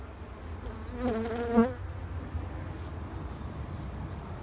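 Honeybees hum steadily around packed hives in a beekeeper's yard during summer preparation for the honey pull, a low continuous drone with wind noise and a brief louder buzz as a bee passes close to the microphone.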